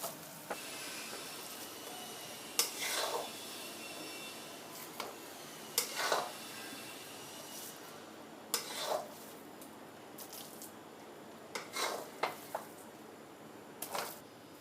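A coconut mawa burfi mixture is stirred with powdered sugar in a bowl, giving scattered sharp clinks and scrapes of the spoon at irregular intervals, fairly faint against a quiet room.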